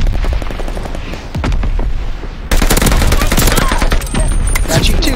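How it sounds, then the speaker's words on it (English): Dense, loud battle noise in the multiplayer game Call of Duty: Vanguard, with rapid gunfire and heavy booms from a mortar barrage pounding continuously over several seconds. "Allies calling the mortar barrage."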